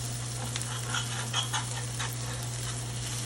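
A NY strip steak sizzles in a cast iron pan, giving a steady, soft frying hiss with a few light crackles over a constant low hum from a kitchen vent.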